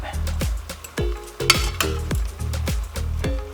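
Shrimp and asparagus cook in a hot pan, with a steady sizzle broken by repeated scraping strokes of a utensil stirring against the pan, loud and close.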